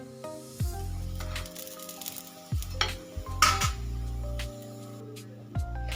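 Besan poli frying in a pan with a little oil, soft sizzling interrupted by several low thuds and clinks of utensil on the pan, close and without talk.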